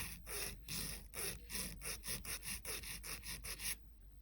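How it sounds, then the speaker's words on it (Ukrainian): Rhythmic rasping strokes of a nail file pressed firmly against a fingernail edge, about a dozen back-and-forth passes in a steady rhythm, close and fairly quiet. "так впираю пилку, прям сильно впираю пилку, щоб вона мені не виляла"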